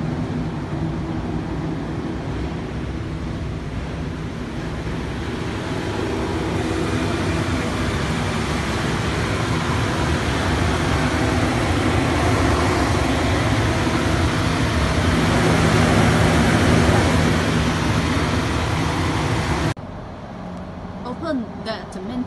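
Cooling fans running inside a KEYPOWER AC load bank used for generator testing, a steady loud whir that builds slightly, then drops off near the end, with speech sometimes heard over it.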